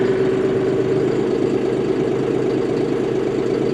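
A John Deere 5075E tractor engine, not yet warmed up, runs steadily and loudly close by, a constant mechanical drone with a low knocking rumble, rising slightly in revs to around 1,000 rpm.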